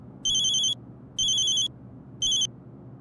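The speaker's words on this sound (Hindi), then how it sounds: "बिल्ला का फोन लगे, बिल्ला का फोन" Telephone ringing in three electronic bursts, two longer and one short, with gaps of quiet room noise between them, clear and close with no voices.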